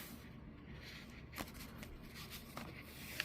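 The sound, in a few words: peeling off a label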